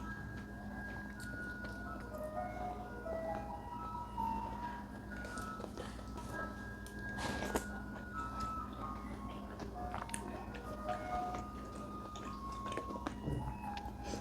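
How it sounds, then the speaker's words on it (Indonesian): A garbage truck passes while playing its jingle, a thin melodic tune repeating at a moderate distance over a steady low background hum. "Itu suara mobil sampah ya."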